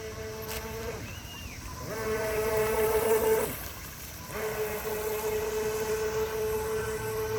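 A brand new radio-controlled gas boat motor runs steadily at close range, holding a droning whine that rises in pitch, briefly dips, then climbs again.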